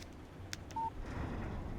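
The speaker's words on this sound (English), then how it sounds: "Text message from Barry" A phone in the Alan Wake video game gives a brief single electronic beep for a text message alert, short and clean against a faint background hum.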